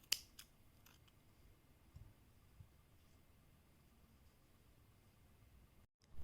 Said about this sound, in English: you can cut your yarn